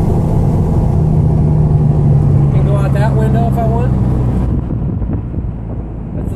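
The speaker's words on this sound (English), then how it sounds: "That's the sound of the exhaust." Exhaust note from a Volkswagen GTI heard from inside while driving, a steady low rumble with wind noise throughout, under a man's speech that fades near the end.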